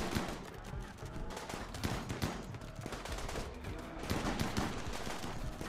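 Gunfire crossfire in the colony game RimWorld, with rapid, uneven bursts of shots crackling continuously at moderate volume.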